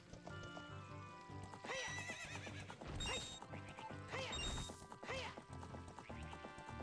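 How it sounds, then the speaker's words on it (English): A horse in The Legend of Zelda video game gives a loud whinny over game music, with hoof clip-clops and a couple more neighs following in quick succession. "Here's my horse."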